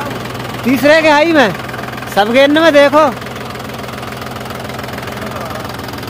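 A brand-new Mahindra 265 tractor engine runs steadily at around 1700 RPM, a constant low hum sitting under two bursts of loud speech near the microphone.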